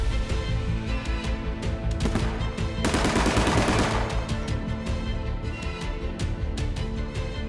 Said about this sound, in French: c'est pour ça qu'on utilise le tir à blanc